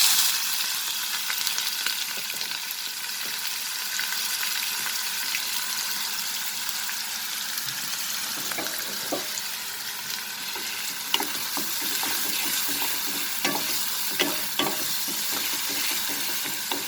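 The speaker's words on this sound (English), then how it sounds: "Now I will add the chopped onion." Chopped onion sautéing in a pan, giving a steady close sizzle with intermittent scraping and stirring taps, no talking.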